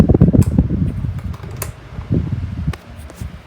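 A 1980s Micromark 12-inch desk fan runs on low, a close, loud steady whir with a rumbling, fluttering low end and a few faint ticks, and nobody speaks.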